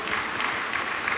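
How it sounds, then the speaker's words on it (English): Steady applause from a town hall crowd in Medford, Oregon, a dense wash of many hands clapping at an even level throughout the short stretch. "let's give Wes a round of applause"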